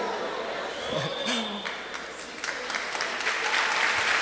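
A Pentecostal church congregation at a carnival-season congress claps together in a sustained, moderately loud round of applause, with brief voices and a chuckle mixed in.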